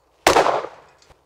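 A single shotgun shot fired at a rabbit clay target: one sharp, loud blast followed by a short fading decay and a faint echo, alone with no talk.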